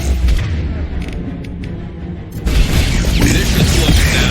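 Heavy gunfire and explosions from the video game Mass Effect 2 come in loud, dense booms and rattling bursts. The noise grows more intense halfway through.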